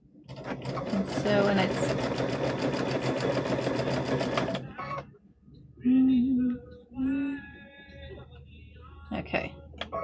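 A sewing machine runs steadily for about four and a half seconds, stitching a quarter-inch seam on a fabric trick-or-treat bag, then stops. Brief speech follows.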